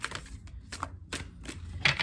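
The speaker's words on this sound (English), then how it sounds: "These cards are shuffling so strangely." Tarot cards are shuffled in quick repeated bursts of crisp slapping and riffling, close and fairly loud with a steady rhythm and no talking.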